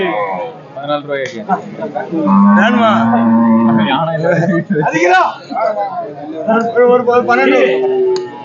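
Cattle moo loudly and repeatedly at close range at the Kadayam cattle market, long drawn-out lowing calls from calves and cows, with faint crowd chatter in the background.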